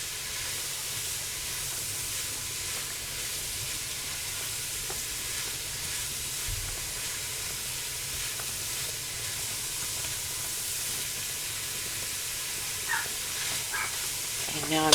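Lean ground beef, about 90-10, browns in a pan with a steady, even sizzle and hiss that runs throughout. Faint stirring clicks break in near the end.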